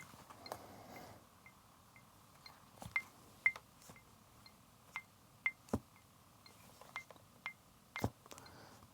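Faint, quick ticking clicks of a click track in a regular pattern leaking from Sennheiser HD300 Pro headphones, with some sharper taps mixed in, quiet and without speech.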